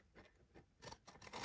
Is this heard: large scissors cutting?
yes